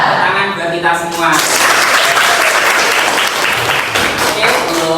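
A ninth-grade class breaks into a few seconds of lively group applause in a classroom, rising right after a teacher's chanted call and running dense and close, with voices mixed in.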